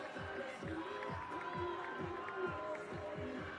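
A softball crowd on a cold March night murmurs and cheers faintly in the background, its steady noise sitting under a commentator's voice.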